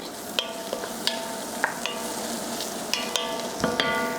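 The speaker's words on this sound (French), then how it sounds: "Allez, je remue encore à nouveau" A spoon stirs bisque sauce in a pan with a soft steady sizzle underneath and light irregular scrapes and taps against the pan, close and without talk.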